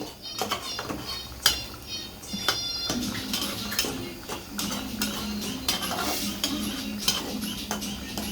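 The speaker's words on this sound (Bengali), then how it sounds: "এখন দুইটা একসাথে দিয়ে একটু নাড়াচাড়া দিয়ে" Food stirred in a cooking pot, with close clinks and scrapes of a utensil against the pot at an irregular rhythm over a soft, steady simmer.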